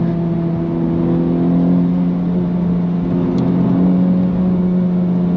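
A Honda Civic Type R GT engine pulls steadily up toward the red line, a loud continuous drone with rising harmonic tones heard from inside the cabin, no talking over it.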